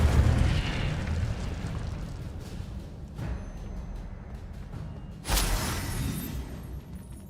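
The Incendio fire spell cast in the video game Hogwarts Legacy, with fiery whooshing bursts over a rumbling background, the strongest flaring loudly near the end.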